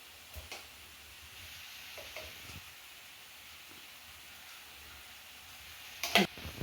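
Ginger garlic paste frying in a pan: a soft, steady sizzle runs throughout with a few light scraping stirs, then a louder clattering stir near the end.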